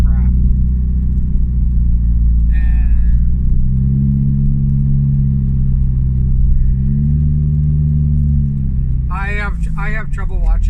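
Car engine rumbling low and steady through its muffler on a commute, a deep continuous drone with shifting pitch, while a voice speaks briefly at times over it.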